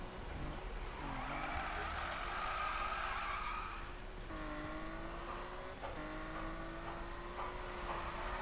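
A car drifting in Need for Speed, its tires squealing in long sustained screeches that rise and fall with the engine's drone, continuous and close, with short breaks as the slide shifts.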